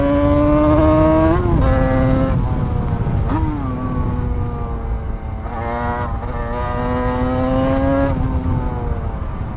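A 1988 Yamaha TDR 240 two-stroke motorcycle engine revs loud and close, its pitch climbing and dropping in repeated surges as gears change, with no talking.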